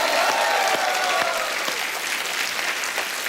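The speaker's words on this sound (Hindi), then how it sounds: "एक बार जोरदार तालियां हो जाए उनके लिए" Loud, steady applause from a studio audience on a comedy talk show, cheering Kishore Kumar, filling the room without pause and easing slightly toward the end.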